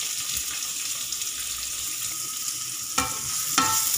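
Onions, fennel seeds and curry leaves sautéing in a pan for chicken heart fry, with a steady close sizzle and two sharper scraping stirs near the end, no voices.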